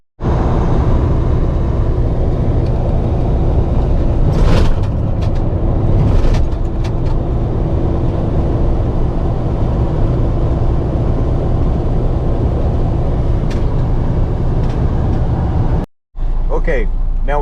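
Freightliner Cascadia truck driving on the road during a Detroit Assurance front radar calibration, giving a steady, loud broadband rumble of engine and road noise with a few brief bumps, then a sudden short dropout near the end.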